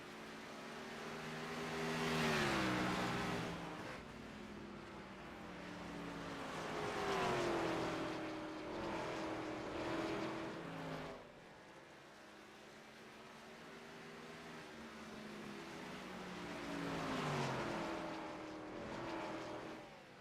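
Race cars circling the Richmond short track in the iRacing video game, engines droning and rising and falling in pitch as they pass in waves, continuous and moderately loud with no talk.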